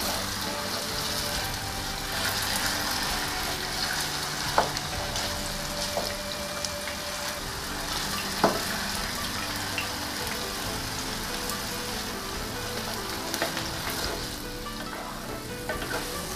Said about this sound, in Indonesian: goreng kentang pelan-pelan ya sampai matang